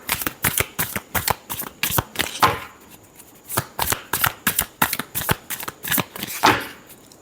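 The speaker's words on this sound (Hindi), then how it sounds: "Last shuffle." Tarot cards riffle and slap in quick rhythmic bursts close to the mic, two runs of rapid shuffling separated by a short pause, loud and clear with no talking.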